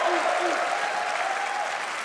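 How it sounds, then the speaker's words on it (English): An audience at a gaming showcase event applauds with steady, continuous clapping throughout, fairly even in level, with a faint voice briefly audible near the start. "Now let's also applaud Claire Obscure from Sandfall."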